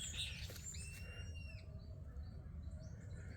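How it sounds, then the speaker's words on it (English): Small birds call around a pond on a nature walk, with a few quick chirps and sweeping whistles early on, then faint, sparse calls over a soft steady outdoor hiss. "hear the birds in the background"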